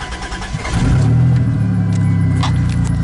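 A 1999 Dodge minivan with about 187,000 miles starts up and idles, its engine catching after a brief crank and settling into a steady, close, loud rumble; no talking.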